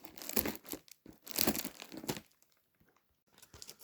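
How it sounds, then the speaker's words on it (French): Packaging crinkles and rustles as a parcel is opened, close, irregular crackling bursts with a brief quiet gap before more rustling. "ça va être un petit peu compliqué d'ouvrir un petit peu le paquet"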